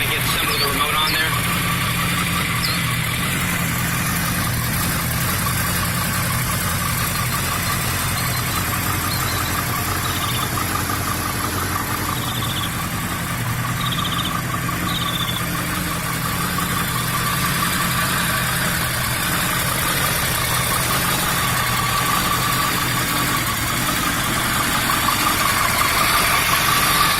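A 2007 Yamaha R1 (YZF-R1) motorcycle with about 12,000 miles sits running, its engine holding a steady, even idle for the whole stretch with little change in loudness.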